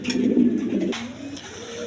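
Pigeons coo in a low, throaty, rolling call, close by and clear, with faint background noise.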